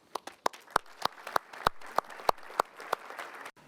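Applause from a convention audience at a school boards association gathering, an irregular patter of many hands clapping with sharp individual claps standing out, steady for several seconds before stopping abruptly.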